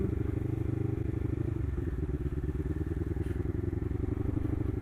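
Lexmoto LXR380 motorcycle engine under way while riding, a loud, steady, throbbing drone with a dense rhythmic pulse that holds close and unbroken throughout.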